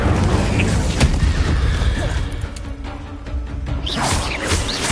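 Spell effects in Hogwarts Legacy: Accio, Levioso and Incendio, giving a string of booming bursts and whooshes, with a sharp hit near the start and swirling magical swells later over a dense game backdrop.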